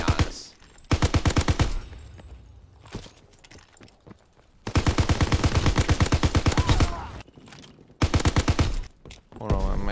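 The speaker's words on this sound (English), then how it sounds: "I love the MG81. This LMG is awesome." An MG81 light machine gun in a World War II shooter fires in three long, rapid automatic bursts separated by short pauses, loud and close, with a few scattered single shots near the end.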